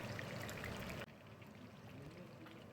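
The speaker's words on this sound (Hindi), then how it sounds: "अब गरम तेल में हमने चिकन को शामिल करना है," Battered chicken pieces fry in hot oil, giving a soft continuous bubbling hiss that dips briefly as the next piece goes in, then settles into a faint, steady sizzle.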